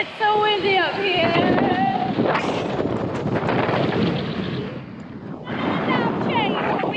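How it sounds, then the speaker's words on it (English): Strong wind buffets the microphone on a high, swinging amusement ride on International Drive, a loud roaring rush that briefly eases; a person's voice is heard at the start. "Oh, it's so windy up here!"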